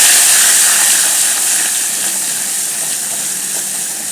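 Crushed garlic and curry leaves hit hot oil in a pan, giving a loud, close, continuous spitting hiss that eases slightly over a few seconds.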